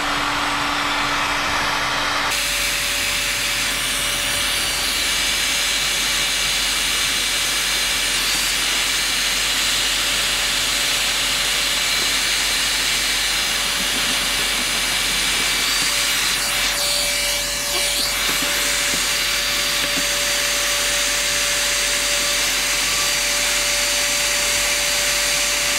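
A heat gun blows a loud, steady, unbroken airy whoosh at close range, warming glued screws on a boat porthole, with faint handling sounds underneath and no talk.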